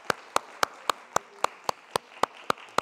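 A church congregation at a Sunday service in a Berlin mission church claps to bless four families at an infant baptism. The claps are sharp and evenly timed, about four each second, over a quiet background.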